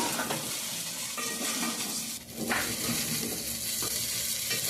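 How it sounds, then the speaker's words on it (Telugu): Egg rice being stirred in a pan after salt goes in, a continuous sizzle with spatula scraping and light clattering throughout, dipping briefly midway. "సాల్ట్ కూడా వేసిన తర్వాత బాగా కలుపుదాము"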